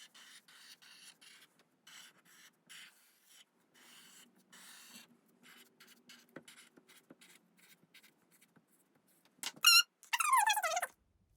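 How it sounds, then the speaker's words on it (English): A Sharpie marker scratches over pencil lines on paper in short, careful strokes with pauses between them, faint and close, ending in a couple of louder squeaky rubs. "I'm going to use my Sharpie and I'm just going to go over every pencil line very carefully"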